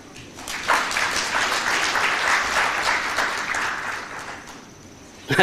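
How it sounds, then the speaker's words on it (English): A union congress audience in Nairobi claps together in sustained, dense applause that swells early, holds steady for several seconds and fades slightly near the end, with a faint voice underneath. "And I want you to clap for that."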